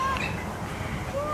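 Cockatoos calling with short, harsh squawks over a low background rumble, heard close by.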